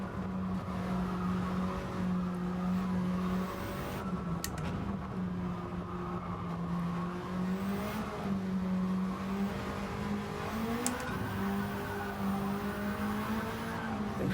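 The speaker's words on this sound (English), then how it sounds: "We're just lighting up those tyres, no matter what the corner, no matter what the gear." Race car tyres squealing in Gran Turismo 7, a steady engine drone with wavering pitch and continuous tyre screech through corners, the driver held in third gear.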